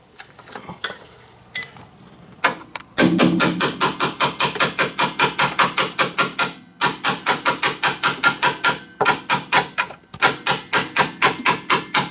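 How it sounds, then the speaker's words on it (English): Repeated hammer blows tapping a suspension bolt through the lower control arm mount on a DeLorean, a long, steady run of loud, sharp metallic strikes in quick rhythm with a few short pauses. "Okay, and then we're going to tap the bolt back through."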